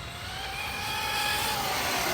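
A Traxxas Unlimited Desert Racer RC car runs at full throttle with a high, steady electric whine and a rising tone that swells slightly over two seconds. There is no speech.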